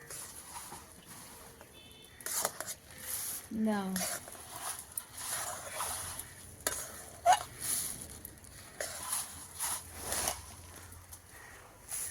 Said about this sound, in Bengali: বৌমা দিচ্ছে আর আমি গুড়টাকে নাড়ছি ভালোভাবে